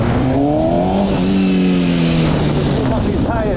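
A 2018 MV Agusta motorcycle engine revs loud and close, pitch rising and falling over rumbling wind and road noise, with people talking underneath.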